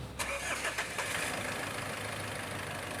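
A Mitsubishi Pajero Sport Dakar diesel engine cranks briefly with the starter and catches, settling into a steady close idle rumble.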